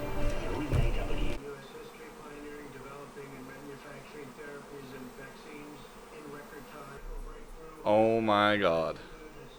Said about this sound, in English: Dude, there's so many bees right now.